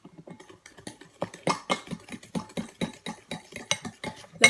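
A spoon is stirred through a mixture in a bowl while baking at home, giving a brisk run of close scraping and tapping strokes with short gaps between them.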